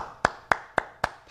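Four sharp, evenly spaced claps from a church congregation, close and loud in a steady rhythm, with a softer fifth clap trailing at the end.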